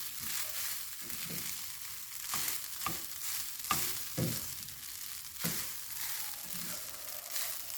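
Fried rice is stir-fried in a pan: a continuous sizzle broken by repeated rhythmic scrapes and tosses of the spatula, close and fairly quiet, with no talking.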